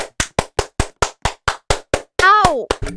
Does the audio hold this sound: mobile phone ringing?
no